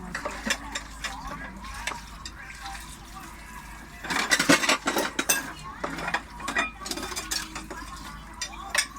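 Dishes being washed by hand: clattering plates, utensils and running water, busiest in a loud burst midway, with a voice talking now and then over the clinking.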